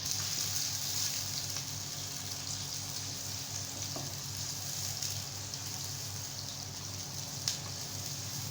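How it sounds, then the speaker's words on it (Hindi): Onions frying in hot oil for a dal mash dish give a steady, soft sizzle that runs evenly throughout, close by, with a faint crackle. "तो नाज़रीन, अब आप देख सकते हैं हमारा प्याज जो है वो बिल्कुल फ्राई होना स्टार्ट हो गया है।"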